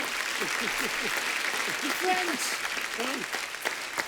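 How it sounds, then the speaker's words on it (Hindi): Applause from a stage show audience welcoming an actress, a moderate steady clapping wash under a host's voice, with shouts and talk layered on top throughout. "जोरदार तालियां मुक्ति के लिए।"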